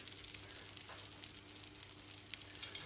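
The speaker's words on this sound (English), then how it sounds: "You'll hear a nice sizzle." Faint, steady crackling and hissing of flatbread frying in a hot pan, continuous and low, with no voices.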